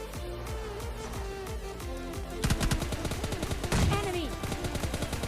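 A dense burst of rapid gunfire in the mobile battle royale game PUBG Mobile Lite, with automatic shots rattling fast and loud over a constant game background drone, growing heavier midway.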